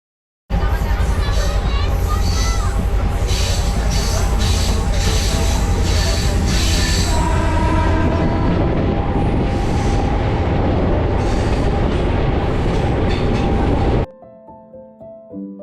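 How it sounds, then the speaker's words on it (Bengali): A local passenger train runs through green hills near Agartala, its loud, steady rumble of wheels and carriages filling most of the stretch before cutting off abruptly, with faint background chatter. "সবুজ পাহাড়ের বুক চিরে চলছিল ট্রেন।"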